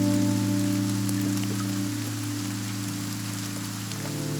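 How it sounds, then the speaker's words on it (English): A rain sample played on an SP404 sampler gives a steady, even patter over sustained Rhodes piano chords, with a constant level throughout. "I could listen to Rhodes piano and rain sound for hours."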